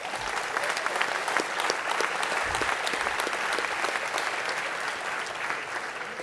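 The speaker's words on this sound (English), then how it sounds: "So give yourself a round of applause." A large crowd at a university's 50th anniversary celebration gives sustained, even applause. The clapping fills the whole stretch without a break.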